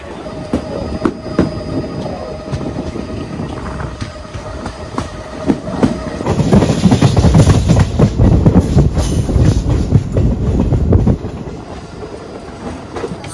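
A Mangaluru–Udhna festival special train runs on rails with steady rumble and clickety-clack, growing louder midway and staying close and continuous throughout with no talk.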